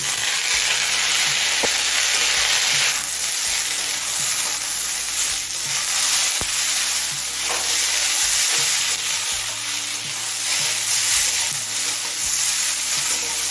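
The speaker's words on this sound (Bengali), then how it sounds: "এবার দিচ্ছি কুচিয়ে নিয়ে একটা বড় সাইজের টমেটো" Chopped tomato hitting hot oil with lightly browned onions in a pan, giving a steady, loud sizzle throughout with occasional stirring scrapes and clinks.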